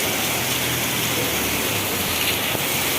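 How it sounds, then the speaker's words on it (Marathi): Dense, heavy monsoon rain pours down continuously over Karad town, a loud rushing hiss with a low rumble of water beneath it. "आज दुपारनंतर कराड शहरासह परिसरात मुसळधार पावसाने हजेरी लावली"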